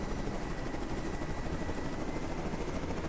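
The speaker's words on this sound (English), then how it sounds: "I'm assuming manual control of the chopper" A helicopter in Carrier Command 2 keeps up a steady, loud rotor drone with a dense, even roar that holds without break.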